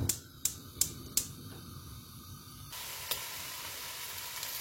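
Meat sizzles alone in a pot over a fire, with no oil added, for Burkina Faso fat rice with soumbala. A steady hiss runs throughout, broken by a few sharp clicks near the start, and it grows brighter and louder partway through.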